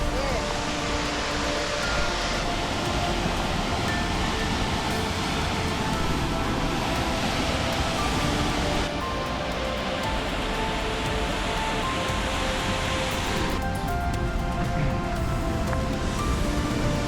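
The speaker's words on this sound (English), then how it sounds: "That's a big waterfall." Heavy, steady roar of a big waterfall plunging into a high gorge in New Zealand, a continuous broadband rush that stays loud and close throughout, shifting slightly in tone partway through.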